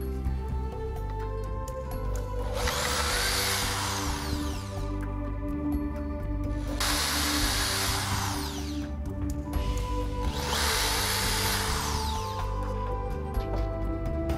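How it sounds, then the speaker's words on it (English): A power drill whirs in three separate bursts of a few seconds each, drilling pilot holes through a bench top, with short pauses between them. The drilling is fairly close and steady. "Drill the pilot holes through the bench top."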